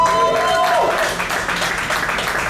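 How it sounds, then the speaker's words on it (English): Dinner guests at a Knott's Berry Farm roller coaster announcement event clap for the Director of Foods, a full burst of applause that eases slightly midway, with a few voices over it. "That was a better applause than the ride got"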